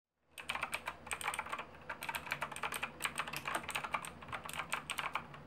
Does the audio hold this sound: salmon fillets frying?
no